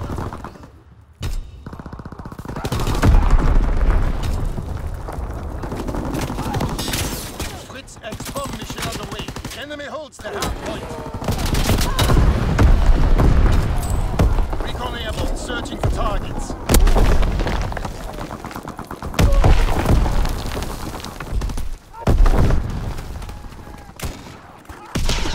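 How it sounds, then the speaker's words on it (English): Sustained video game combat with bomb blasts and gunfire, dense booms and rapid shots rolling continuously at high volume, punctuated by heavier impacts and brief lulls. "Enemy bomb incoming. Get to cover."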